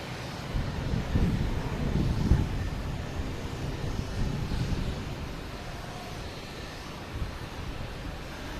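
A JetBlue Airbus A321 jet takes off at Boston Logan Airport, a steady broad engine roar with a slightly louder swell early on, heard from a distance under light wind.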